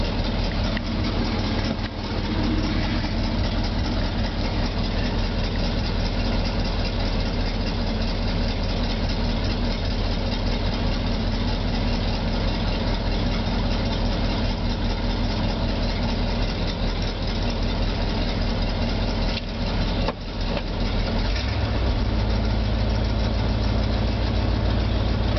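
A 1975 Ford F-500 flatdeck truck engine idles steadily with the choke on, a continuous loud rumbling drone with a slight shift in tone near the end, no voices over it.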